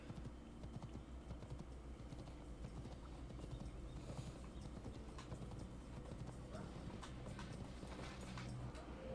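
Horse hooves clip-clop in a 12th century assassin video game, a quiet, steady rhythmic patter with faint background game sounds and no clear talk.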